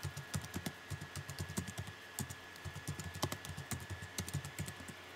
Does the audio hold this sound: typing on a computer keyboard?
yes